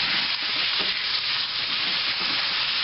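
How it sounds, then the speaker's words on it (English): Steady, dense sizzle of chicken frying in a hot wok, loud and close, with faint stirring scrapes and no talking. "You want to hear that sizzle."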